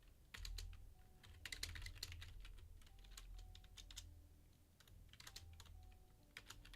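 Fingers tap quickly on a computer keyboard in irregular bursts of clicks, close but quiet, over a low background hum, with no talking.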